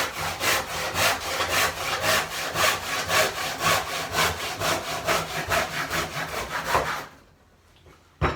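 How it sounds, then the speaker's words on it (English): A hand saw cutting timber in long, even back-and-forth strokes, loud and close and heard alone, stopping abruptly near the end. "Right, just let the saw do the work."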